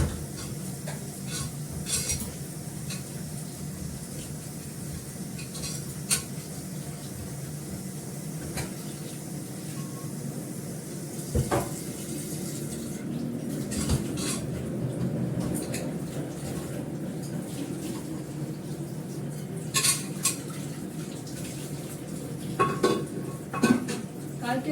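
A pressure cooker being washed by hand, with steady running water and intermittent metal clanks and scrapes of the pot close by, continuing throughout with no talk.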